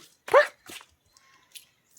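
A single sharp dog bark rings out near buffaloes in a village, followed by a softer second bark and faint distant noises in an otherwise quiet setting.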